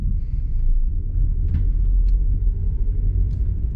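A Toyota Corolla Conquest AE112R with a manual gearbox drives in Australia, its engine and road noise forming a loud, steady low rumble from inside the cabin, with no voices.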